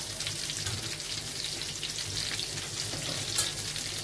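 Salmon sizzles in butter in a pan with a constant crackling, spattering fry, moderately close, with no voices over it.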